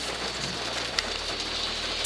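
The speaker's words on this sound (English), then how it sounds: "It's raining, guys!" Rain falling outside, a steady soft hiss of drops with a faint low hum underneath and a couple of brief louder taps, no voices.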